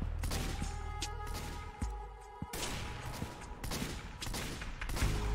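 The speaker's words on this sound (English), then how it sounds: "I want to kill you with my needle gun" The syringe gun in Team Fortress 2 fires rapid, continuous volleys in short sustained runs, with brief gaps between them over steady game background noise.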